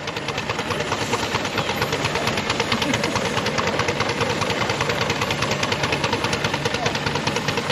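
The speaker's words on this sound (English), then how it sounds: "a 4-inch Foster traction engine" A 4-inch Foster steam traction engine runs at a steam fair, chuffing and knocking in a fast, steady rhythm that stays loud and close throughout.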